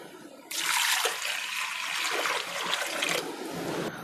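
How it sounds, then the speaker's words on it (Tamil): Water pours steadily into a container of crushed jamun (Indian black berries) being prepared for wine, a continuous splashing rush that starts abruptly and runs for about three seconds before easing. "அடுத்ததாக இதில் தண்ணி ஆட் பண்ணிக்கலாம்."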